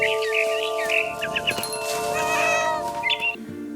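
A cat in What Remains of Edith Finch gives a series of close, drawn-out meows and yowls over a soft, steady tonal background.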